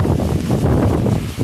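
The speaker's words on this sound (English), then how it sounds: "The wind is pushing at my phone and I can feel the wind, how strong it is in my phone." Strong gusts of wind buffet a phone microphone during a heavy storm, a loud continuous low roar that swells and pulses throughout.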